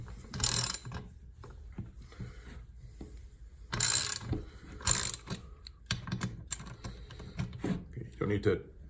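A hand ratchet clicks in short bursts while tightening nuts on a 1984 Corvette during a rebuild, close and crisp, with quiet gaps between bursts and someone talking.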